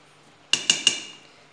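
Powdered milk and salt being stirred together for pizza dough: three quick, bright metallic clinks of a utensil against a bowl, evenly spaced and close, each ringing briefly in a quiet kitchen.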